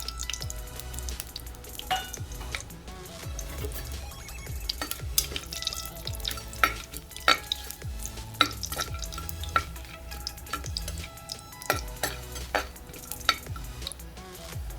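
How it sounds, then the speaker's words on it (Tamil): Whole spices frying in ghee and oil in a pan for chana rice, stirred with frequent clinking scrapes and crackles over a low sizzle, close up and without speech. "எடுத்து வச்சு ஹோல் ஸ்பைசஸ் போடுறேன்."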